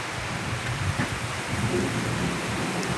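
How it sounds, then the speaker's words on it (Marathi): Heavy unseasonal April rain pours steadily onto a flooded porch on a dark afternoon, with low rolling thunder rumbling beneath the dense hiss; no voices. "बघा किती जोरदार पाऊस चालू आहे."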